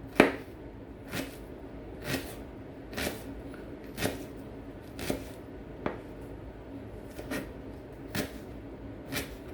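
A knife slices down through fresh ginger on a cutting board in a steady series of about ten crisp, close chops spaced roughly a second apart, with no talking.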